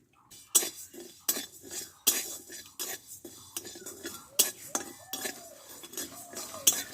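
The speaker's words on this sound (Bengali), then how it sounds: "শুকনো খোলায় ডালটা আমি ভেজে নেব আগে" Mung dal dry-roasts in an oil-free wok, stirred with a utensil that clinks and scrapes against the metal in repeated sharp strokes about once a second, close and fairly loud.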